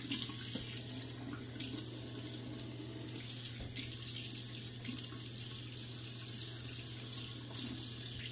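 Tap water running steadily into a sink while a razor is rinsed under it, a close continuous splashing stream with small clinks of the razor against the basin.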